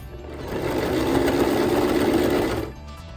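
A home sewing machine running continuously with an unusual, off-sounding noise, close and fairly loud, with a dense mechanical whir that stops abruptly near the end.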